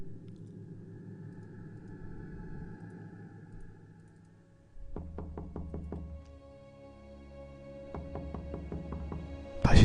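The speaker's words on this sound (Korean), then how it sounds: "노크를 하더랍니다" Knocking on a door in a horror radio story, heard as two separate bursts of about five sharp raps each over a low droning rumble, the second burst near the end followed by a loud thud.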